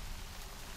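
Steady rain falling in the video game Middle-earth: Shadow of Mordor, a soft continuous hiss with no voices over it, heard as a very brief moment.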